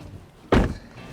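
Aftermarket Lamborghini-style scissor door on a Corvette Z06 swung open, a single short, solid clunk of the door mechanism close by, with quiet before and after.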